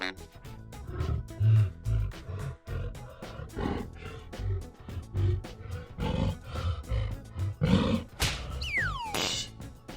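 A lion roars in footage playing on a livestream, several loud rumbling roars recurring throughout amid other wild-animal noise, with a streamer's voice occasionally audible underneath.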